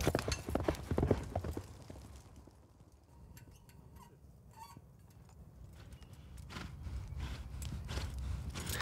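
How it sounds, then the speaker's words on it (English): Horses galloping along a track during Yabusame, Japanese mounted archery: quick rhythmic hoofbeats loud at first, fading into a quieter stretch, then building again toward the end. "The riders gallop along a 200-meter track and must hit three different targets."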